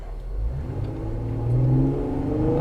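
A car engine revs under throttle as the vehicle accelerates, a steady rising drone held high in the power band, close and loud, with no talk.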